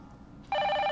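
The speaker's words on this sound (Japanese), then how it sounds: "事務所の電話が鳴っている。" An office telephone in a detective video game, set in a dark office at night, starts ringing halfway through with a steady electronic bell tone, loud and close after a moment of quiet.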